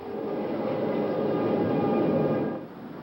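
A Vancouver SkyTrain at the Expo '86 site pulls away with a steady mid-range rolling rumble and faint whining tones, holding level for a few seconds and then easing off.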